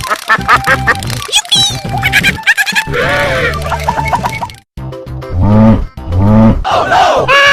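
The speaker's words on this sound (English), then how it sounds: "Duck." Duck quacks mix with a lively crowd-like din and other animal calls over a busy music track, loud and continuous, with repeated quacking bursts toward the end.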